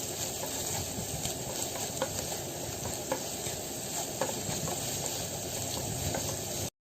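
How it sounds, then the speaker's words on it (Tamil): Onion kachori filling sizzles steadily in a pan as it is sautéed and stirred, a continuous frying hiss with scattered light scrapes and clicks of the spoon, no voices. "எல்லாத்தையும் கலந்து நல்லா வதக்கணும்."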